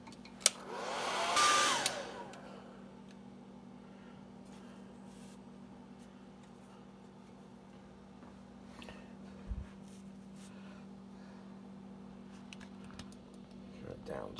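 A hair dryer blows over freshly airbrushed lead jig heads, a loud steady rush in the first two seconds, then it drops to a low hum with faint clicks and handling noises.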